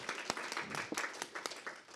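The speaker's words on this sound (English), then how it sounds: "A round of applause for her, please." Applause from an audience after a speaker is introduced at an event on diversity in STEM. It is moderate and somewhat distant, with scattered sharp claps rising above a steady patter.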